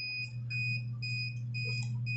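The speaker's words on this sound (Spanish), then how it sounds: "si por alguna razón está pitando" An XM18S device sounds a repeating high electronic beeping alarm in short pulses, heard close and clear over a low steady hum.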